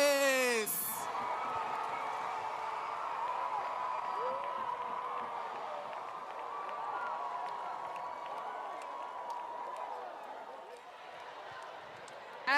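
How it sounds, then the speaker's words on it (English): A crowd at a junior monarch competition cheers and applauds steadily and loudly after a short sharp onset, holding a sustained roar of voices and clapping that fades slightly near the end. "And the crowd goes wild"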